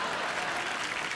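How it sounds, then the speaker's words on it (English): Dense, steady studio audience applause on a comedy talk show, loud and continuous clapping from a packed crowd with no pauses. "जोरदार तालियां"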